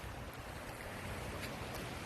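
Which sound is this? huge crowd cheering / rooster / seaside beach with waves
seaside beach with waves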